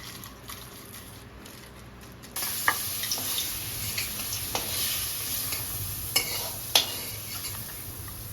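Salted prawns sizzle and crackle in hot oil, a steady frying hiss with occasional sharp pops and stirring clicks, close up and without talk.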